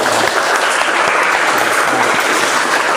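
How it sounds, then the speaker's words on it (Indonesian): Steady audience applause fills a classroom session during a technical drawing lesson, a dense, continuous clapping from a group of students, loud and close throughout with no talk over it. "Tepuk tangan untuk Mas Eva."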